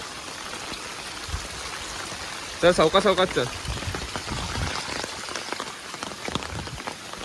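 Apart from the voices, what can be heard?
rain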